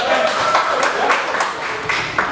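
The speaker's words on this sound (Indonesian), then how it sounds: "kasih tepuk tangan buat kalian semua" Classroom students clapping together for a few seconds, a brisk uneven patter of hands with individual claps standing out, close and fairly loud.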